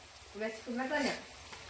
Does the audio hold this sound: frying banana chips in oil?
yes